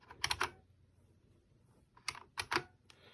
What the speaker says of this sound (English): Do you like my keyboard? I love my keyboard.